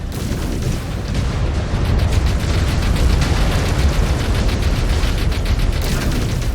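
Enemy mech destroyed in MechWarrior 5: Clans combat, a loud sustained rumbling explosion with dense booming blasts and crackle that roll on steadily for several seconds, with no talk.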